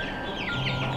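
Young Bresse chickens peep and cluck steadily for a moment, close by, with a thin continuous chirping over a low background hum and no talking.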